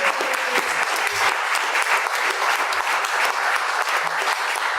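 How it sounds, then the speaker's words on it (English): A room full of people applauds presenters at a boating safety meeting, a sustained, even clapping with scattered individual claps standing out, no voices over it. "let's give them a round of applause."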